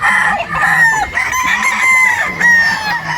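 A Gilmore gamefowl rooster crows loud and close on a farm in Batangas, its long strained call rising and falling with rough clucking sounds between the notes. No voices are heard.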